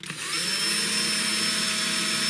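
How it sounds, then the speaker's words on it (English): Small drill cutting into the hard alloy part of a Tri-ang Super 4 model railway diamond crossing, a steady close high-pitched whine that starts abruptly and runs on without pause. "Just let the drill do the work."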